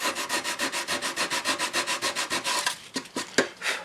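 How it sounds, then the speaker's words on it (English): Coarse 60 grit sandpaper scrubs the top of a wooden window flower box in fast, rhythmic strokes, close and loud, then slows into a few uneven rubs and knocks. "I usually hit it with just a little bit of really coarse 60 grit sandpaper."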